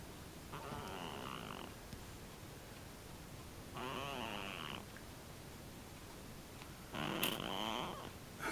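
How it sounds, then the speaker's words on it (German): A sleeping cat snores in three long, raspy, rumbling breaths separated by quiet pauses, close and fairly soft. "Schnarcht wie ein Weltmeister."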